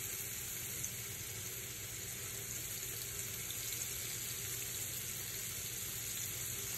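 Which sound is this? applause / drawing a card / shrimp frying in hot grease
shrimp frying in hot grease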